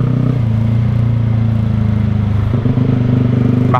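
Motorcycle idling through a Proliner muffler, a steady, loud, rounded exhaust burble with a continuous low throb throughout and a slight shift in tone near the end.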